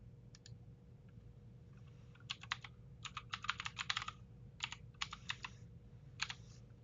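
Fingers tap on a computer keyboard while logging into an account, with short bursts of quiet clicking keystrokes separated by pauses over a low steady hum.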